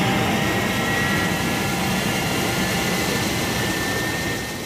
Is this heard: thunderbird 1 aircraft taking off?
yes